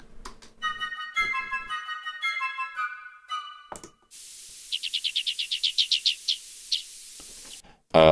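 Recorded songbird singing, first a rapid harmonic warbling phrase, then after a short gap a fast series of about a dozen bright repeated chirps over a faint hiss, heard clearly with no talk.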